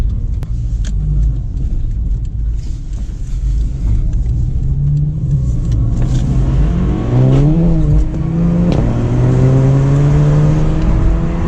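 A Subaru Impreza or Golf GTI Mk7.5 engine revs and accelerates hard nearby on a B road, its pitch climbing through the gears with a rising whine over a deep rumble, loud and continuous.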